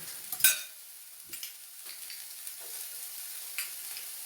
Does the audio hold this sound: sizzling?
yes